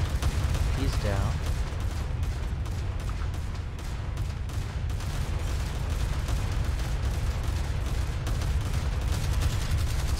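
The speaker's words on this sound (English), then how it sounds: "Such flak." Anti-aircraft flak fire in a naval combat video game, a continuous barrage of rapid cracking bursts and thuds over a low rumble, with someone talking over it.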